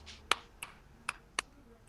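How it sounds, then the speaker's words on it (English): Several sharp hand claps spaced unevenly across a couple of seconds, crisp and close in a quiet room, each a single isolated crack with silence between. "So if I'm going to clap"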